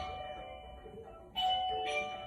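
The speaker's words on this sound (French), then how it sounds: "C'est la sonnette du facteur et des recommandés." A postman's doorbell chimes indoors in a home, two bright electronic ding-dong tones rising out of a quiet room, fairly loud and close.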